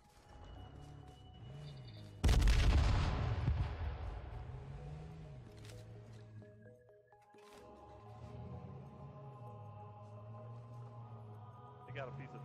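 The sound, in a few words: grenade explosion in H1Z1 video game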